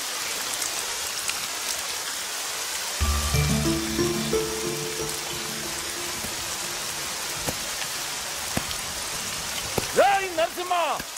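Rain falls over farm fields as a soft, even hiss, with a brief tonal background sound and a few faint voices near the end.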